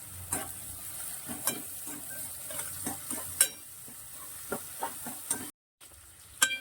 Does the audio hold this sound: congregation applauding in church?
no